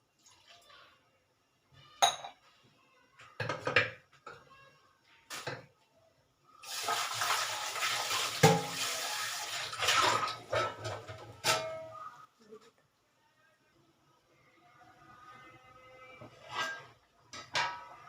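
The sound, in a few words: pouring water into tomato dal while cooking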